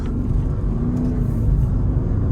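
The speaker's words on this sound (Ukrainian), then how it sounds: "Класний звук двигуна." Porsche Cayenne Turbo 958 with a 4.8-litre, 500 hp engine gives a deep, close, steady rumble with a low throaty drone and no clear rise in revs, heard alone with no talk.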